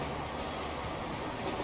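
Several trains roll past in the rail simulation game Transport Fever 2, a steady, dense rumble of wheels and carriages that holds at the same loudness for the whole stretch, with no talking over it.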